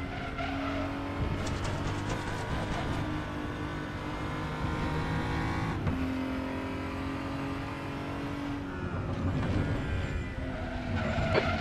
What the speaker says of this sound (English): You're locking your fronts going into turn three.